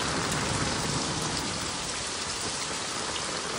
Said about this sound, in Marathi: पाऊस लय पडतो, पाऊस जोरात आहे.